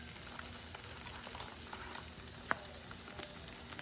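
Mixed vegetables with tawa fry masala sauté in a pan with a soft, steady sizzle and faint stirring, plus one sharp clink partway through; quiet and close, no talking.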